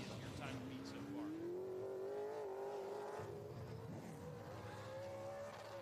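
A super late model race car runs a qualifying lap at Cordele speedway, its engine drone rising steadily in pitch as it accelerates, heard at a distance under continuous commentary.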